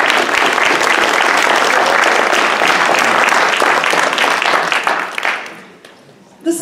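A crowd at a startup challenge finale claps loudly and steadily, a full round of applause that tapers off near the end, followed by a brief sound as it stops.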